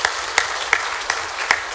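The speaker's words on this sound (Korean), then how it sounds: "다시 한번 하나님 영광의 박수 한번" A church congregation clapping in praise after a choir's song during a Sunday service, with sparse, rhythmic claps roughly every third of a second standing out over a soft background wash.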